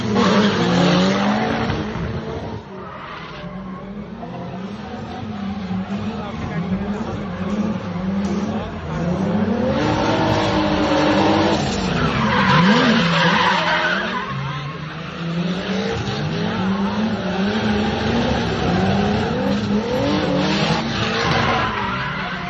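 Drift cars at a Brazilian drift championship screech through a lap, tires squealing in long rising and falling wails over a steady engine roar, continuous and fairly loud, with some voices faintly mixed in.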